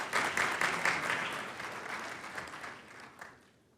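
An audience at a Chicago City Council special meeting claps for a visiting former state senator, a dense round of applause that starts strong and gradually thins and fades out.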